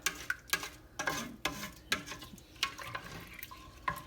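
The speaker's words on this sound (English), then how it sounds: "Give that a good mix" Vermicelli milk pudding being stirred in a pan, heard as close, repeated scraping and clinking of a spoon against the pan in an uneven rhythm, with soft wet swishing of the milky mixture.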